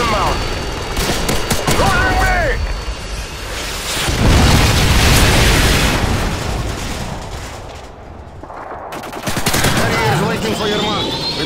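Predator missile strike in Call of Duty Modern Warfare 2 multiplayer: dense bursts of gunfire and heavy explosions roll on loudly and continuously, with a big blast swelling near the middle and a voice breaking through the din.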